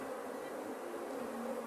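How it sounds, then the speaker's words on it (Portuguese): A dense swarm of honey bees clustered at a hive hums in a steady, continuous buzz, close and even throughout, with no voices. "Muita abelha aqui aglomerada."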